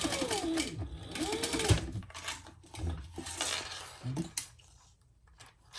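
A sewing machine basting a folded fabric edge, its needle running in fast close bursts with brief pauses and handling clatter between them, and faint talk in the background.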